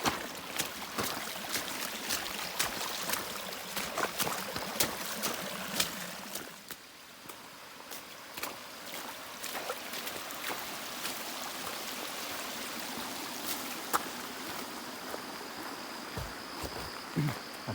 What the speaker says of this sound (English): pretty good flow. Like, I mean, it's like an actual creek.